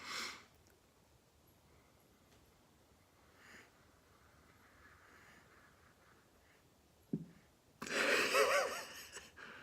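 A person with a slight cold sniffs a glass of whisky during a tasting, with a few soft sniffs spaced apart, then a sharper, louder inhale near the end.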